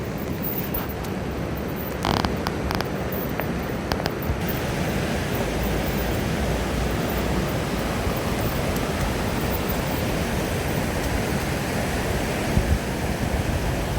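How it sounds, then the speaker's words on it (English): Storm runoff from a freeway overflowing into the Los Angeles River during a storm, a loud continuous roaring rush of water heard up close beneath a bridge, with no talk. "All the water's overflowing."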